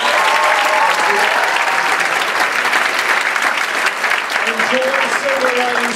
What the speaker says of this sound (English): Ladies and gentlemen, another round of applause for Tim